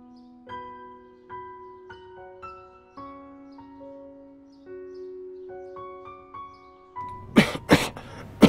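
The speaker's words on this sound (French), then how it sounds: "Et la toux ne s'arrête pas." An elderly man with a persistent dry cough hacks several times in quick succession, loud and close, following a stretch of soft melodic music.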